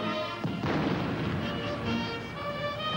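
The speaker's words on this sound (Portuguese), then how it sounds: "Eles foram saudados por tiros de canhão e pelo toque do hino nacional." Cannon salute fired at a presidential ceremony at the Brazilian Congress, with one sharp boom followed by a long rumbling echo.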